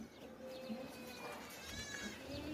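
A heavy sacrificial goat at a livestock market for Eid gives a few faint, wavering bleats amid low background crowd murmur and market noise.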